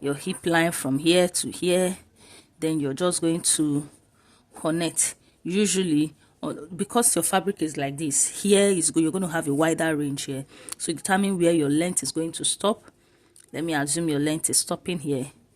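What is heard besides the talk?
None of the usual background noises is heard.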